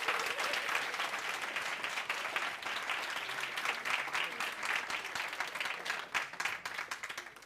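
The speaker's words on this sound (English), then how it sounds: "give our amazing speakers a huge round of applause" A theatre audience applauds speakers at the end of a talk session, steady dense clapping that fills the room throughout with a faint murmur of voices underneath.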